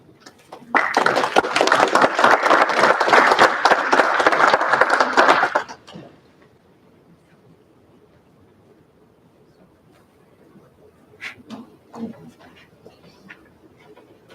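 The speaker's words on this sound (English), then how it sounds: "give you a round of applause each time as we're doing that" Audience applause at a university honor society induction ceremony breaks out strongly for about five seconds, a dense wash of clapping that cuts off abruptly, followed by a quiet room with a few faint sounds.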